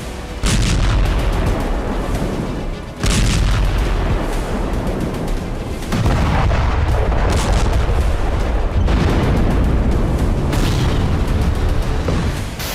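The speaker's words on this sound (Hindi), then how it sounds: "हर घंटे हजारों किलो बारूद बरसाया जा रहा है।" Heavy blasts from Russian bombardment in Ukraine, a series of loud booming explosions a few seconds apart, each followed by a long rumbling tail, with no voices.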